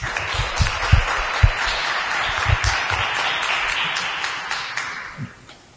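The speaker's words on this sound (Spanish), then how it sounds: "Aplauso para ti." An audience at a raffle draw gives a raffle winner sustained applause, a dense burst of clapping that stays steady and then fades out toward the end.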